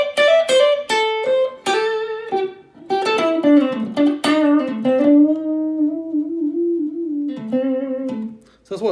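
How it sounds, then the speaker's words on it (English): Clean, mellow lead phrases from a solid-body electric guitar going for a jazzy sound, with plucked notes ringing into a long sustained bend-like line, then a few quiet notes at the end, solo and up close. "what I think of as quite a sort of mellow, clean lead sound"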